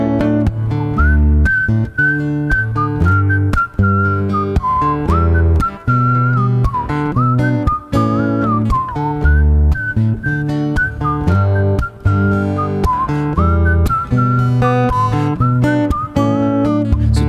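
A performer at a live-streamed acoustic music set whistles a melody, loud and sustained over steady strummed guitar accompaniment, the tune rising and dipping without words.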